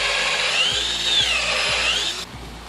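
A power drill bores a hole in a wooden wall plate during house roof framing, its motor whining at high pitch with rhythmic chugging as the bit works through wood, then cutting off abruptly near the end.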